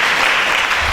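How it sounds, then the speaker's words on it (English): A classroom of students clapping together in a brief, dense burst of applause, close and loud. "Beautiful clap for me."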